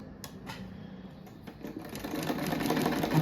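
A sewing machine stitches together pieces of reused denim jeans for a rug. It starts with a few mechanical clicks, then settles into a steady whir that grows louder toward the end, heard close up with no speech.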